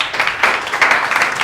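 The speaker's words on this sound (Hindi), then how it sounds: "ताली बजाओ भाई।" Hands clapping in applause at a Teachers' Day celebration, a short burst of several people clapping in quick uneven rhythm, fairly close and clear with no talk over it.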